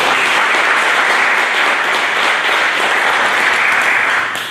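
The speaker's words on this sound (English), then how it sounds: "Give them a round of applause." Sustained dense applause from an audience honoring award recipients at a Veterans Day celebration, steady and loud throughout before tapering slightly at the end.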